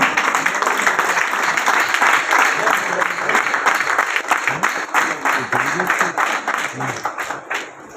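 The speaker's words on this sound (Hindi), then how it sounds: "आपकी भरपूर तालियों में तशरीफ ला रहे हैं" Loud, steady applause from a large audience at a State Life insurance event in Abbottabad fills the whole stretch, dense clapping with crowd murmur, tapering slightly near the end.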